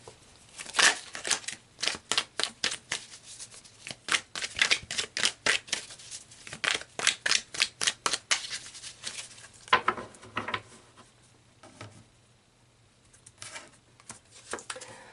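A deck of tarot cards is shuffled with a long run of rapid, rhythmic riffling strokes close to the listener, then settles into quieter handling and pulling of the cards.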